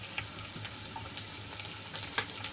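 Garlic sautés in hot oil with bay leaf, dried red chili and curry leaves, giving a steady, fairly quiet sizzle with small crackles and pops throughout and no talking.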